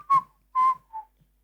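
Whistling in a song played back, three short clear whistled notes, the last one softer, with silence between them.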